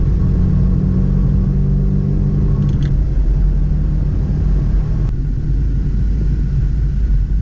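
A 2017 Subaru WRX engine drones steadily while driving, a loud continuous low rumble with road noise throughout and no clear rise in revs.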